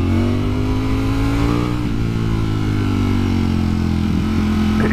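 The engine of a 2020 Ducati Streetfighter V4 motorcycle drones loudly and steadily on the throttle, its pitch sagging slightly and then climbing again.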